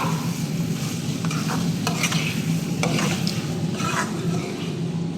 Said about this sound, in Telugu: మసాలా అంతా బాగా వేగిపోయింది కాబట్టి మునక్కాయలు ఉండాల్సిన అవసరం లేదు కొంచెం కలిపేసుకొని